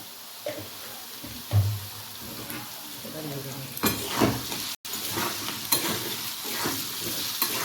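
Salt and turmeric sizzle in a hot kadai for a prawn dopiyaza curry. A spoon stirs and knocks against the pan in uneven bursts over a continuous frying hiss, close by.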